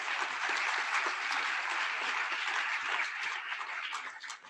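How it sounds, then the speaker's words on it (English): Steady, dense applause from a conference audience at an ESG symposium plenary after the opening keynote, sustained at even strength before tapering off at the end. "One more round of applause for our opening keynote."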